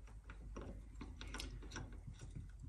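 Metal change gears are worked loose and pulled off the square-head shafts of a Grizzly G0602 metal lathe, giving a rapid series of close, quiet clicking and ratcheting metallic taps with no talk.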